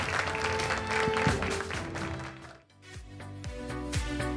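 Studio audience applause on a Brazilian TV variety program, a steady wash of clapping that dips briefly and then swells again, with some musical tones mixed underneath.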